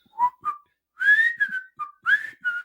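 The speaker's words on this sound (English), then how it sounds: "I'm so envious that you can whistle." A person whistles a short melodic tune, clear and close, in a series of distinct rising and falling notes with brief pauses between phrases.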